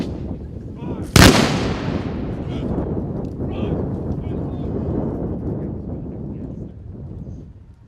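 A single loud musket volley fired by Washington's Life Guard reenactors at Lexington, Massachusetts, a sharp crack followed by a long rolling echo that fades over several seconds outdoors.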